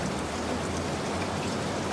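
Steady rain falls without pause, a dense even hiss of drops on surfaces with a low rumbling bed beneath, with no voices.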